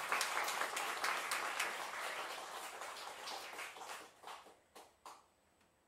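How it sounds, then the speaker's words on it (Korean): A church congregation applauds at a memorial worship service, clapping fairly quietly at first and then thinning into a few scattered claps before fading out. "우리 하나님께 영광의 박수로 올려드리겠습니다."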